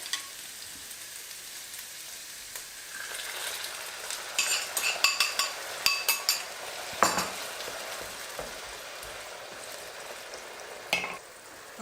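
Potatoes cooking in a pan with sauce in a Korean-style dish, a soft simmering sizzle broken by a run of metallic utensil clinks and scrapes against the pan.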